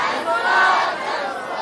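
A crowd at a Bihar political gathering shouts the Jan Suraj slogan in unison, one brief loud collective chant rising and fading.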